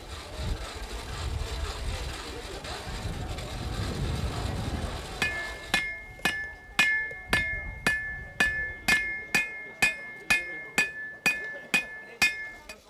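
A blacksmith hammering metal at a village fair in Brittany, with a murmuring crowd at first, then a steady series of about fifteen ringing, evenly spaced hammer strikes on an anvil, close and loud.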